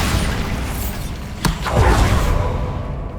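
A Bombarda explosion spell from Hogwarts Legacy lands with a sharp crack and a swelling burst of rubble and debris, loud against a continuous background rumble.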